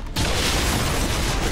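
Explosions in the video game XCOM 2 give a loud, sustained blast that bursts in after a brief quiet moment and rumbles on densely, with no talk over it.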